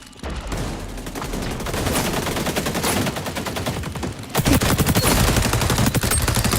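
Rapid automatic M4A1 assault rifle fire in the shooter XDefiant, dense rattling bursts running almost continuously, briefly thinning before a louder, heavier stream of shots resumes.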